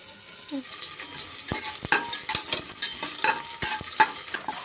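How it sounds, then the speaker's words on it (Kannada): Onions fry in hot oil in a pressure cooker for a country-style chicken curry, a bright continuous sizzle punctuated by frequent scraping clicks of a stirring spoon close by. "ಎಣ್ಣೆ ಬಿಸಿ ಆಗ್ತಾ ಇದ್ದಂಗೆ ಇದಕ್ಕೆ ಈರುಳ್ಳಿ ಹಾಕಿ ಫ್ರೈ ಮಾಡ್ಕೊಳ್ಳಿ"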